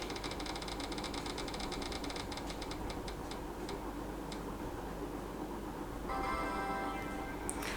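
A spinning prize wheel ticks quietly, its rapid clicks spreading out and slowing over a few seconds until they stop, faint against a low steady background hum.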